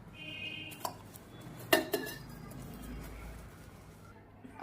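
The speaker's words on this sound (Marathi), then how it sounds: "हे पुरणाची चाळणी आहे त्यामध्ये बटाटा टाकून आपण ते बारीक करून घेणार आहोत" Boiled, peeled potatoes pressed through a metal puran sieve, a few sharp metallic clinks and scrapes of utensil on the strainer over quiet kitchen background.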